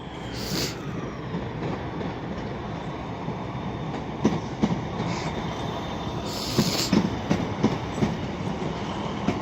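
A pair of East Midlands Trains class 153 diesel units run through Crewe station, a steady rumble and rolling wheel noise with rhythmic clicks over rail joints and a few high squeals, close and continuous.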